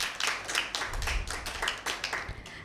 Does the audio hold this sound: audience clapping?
yes